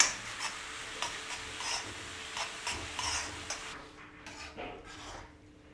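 Chopped green chillies sauté with garlic ginger paste in a pan for pav bhaji, a soft, quiet sizzle with light spatula taps and scrapes that fade toward the end.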